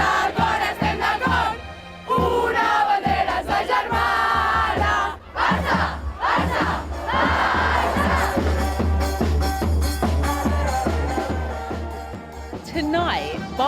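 Huge football stadium crowd of more than 80,000 at the Nou Camp for a Barcelona women's match, roaring and chanting loudly and continuously with swelling cheers and a brief dip partway through.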